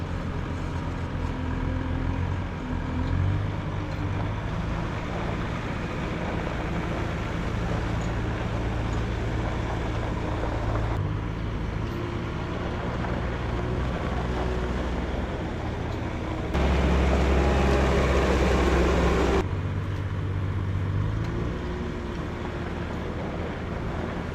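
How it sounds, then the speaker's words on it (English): A skid steer loader's engine runs at a steady, fairly loud idle rumble, with a rougher, louder stretch near the end before settling again. "I gotta hop in the skid steer and unload this stuff"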